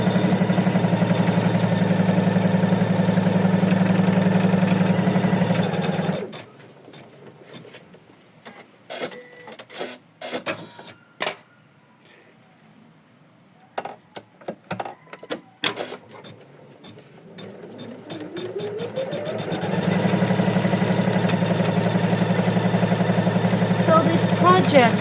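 An embroidery machine stitches a cozy house ornament with a loud, steady mechanical hum, breaks into a stretch of intermittent clicks and short bursts mid-way, then resumes the continuous rhythmic stitching.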